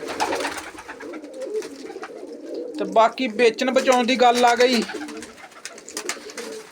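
Pigeons from a kept flock give repeated throaty coos that swell in the middle of the stretch, mixed with a man's nearby speech.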